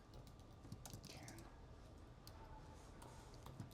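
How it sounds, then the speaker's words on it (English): Faint, irregular clicking of fingers typing on a computer keyboard, quick keystrokes scattered over a low background hum. "I'm going to type faster with this down."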